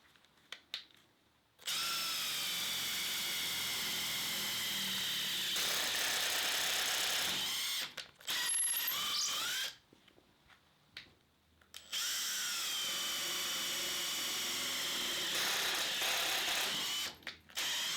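An impact driver with a Makita hex drill bit whines and rattles through thin metal in two long bursts at medium and high speed, separated by short pauses and a few clicks.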